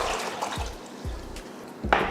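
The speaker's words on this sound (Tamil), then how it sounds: "ஒரு பாத்திரம் வச்சு தண்ணி ஊற்றிக்கலாம்." Tap water runs and splashes into a cooking pot in a home kitchen, set out for boiling rice. It comes as a steady close wash with a few louder gurgling bursts and a sharper splash near the end, and no talking.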